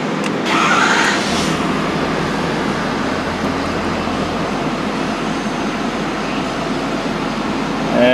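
Ford 6.7L Powerstroke diesel engine starting up, a brief crank and catch followed by a steady, loud idle rumble that continues evenly to the end, close by with no talk.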